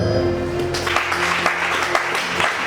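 A church congregation breaks into a burst of clapping during a worship service, loud, close and irregular, with a sustained musical tone held underneath.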